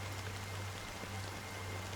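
Steady rain falls in the game Honkai: Star Rail, a soft, even hiss of drops with a low constant hum beneath, quiet and continuous with no one speaking.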